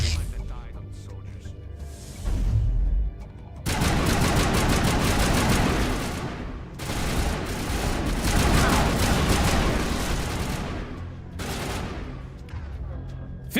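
Turrets in the Mass Effect space RPG pour out rapid sustained gunfire, dense bursts of automatic shots that run almost continuously with brief pauses, loud and close, with voices talking over the shooting.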